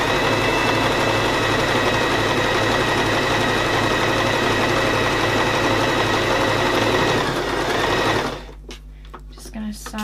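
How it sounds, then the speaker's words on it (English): A sewing machine runs steadily and loudly, stitching the top edge of an envelope cushion cover with a 1 cm seam allowance. It hums without a break, then stops near the end, leaving brief small clicks and handling noise. "To sew all the way along that top edge, just with a 1 centimetre seam allowance."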